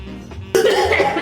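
One sharp, loud cough bursts out close up after a moment of quiet background noise during a casual cooking session making a bison calzone.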